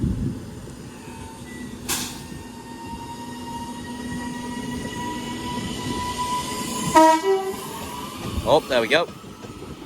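Three-coach electric train 331016 departs Wigan North Western for Liverpool Lime Street: a steady hum and rising motor whine build as it pulls out, with a short sharp knock early on and a brief voice near the end.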